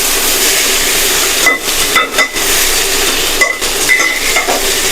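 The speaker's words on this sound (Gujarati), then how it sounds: "હવે આપણે તેને સારી રીતે તેલમાં તેને સાંતળી લેશું બરાબર." Greens sizzle loudly in hot oil in a home kitchen while a utensil stirs and scrapes the pan in a few short clanks, the frying hiss steady underneath.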